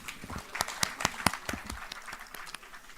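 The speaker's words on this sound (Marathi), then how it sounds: "एकदा श्रुतीसाठी आपण टाळ्या वाजवूच शकतो" Light, scattered applause from an audience welcoming a dancer at a live award show, individual claps standing out at close range before thinning to a faint patter.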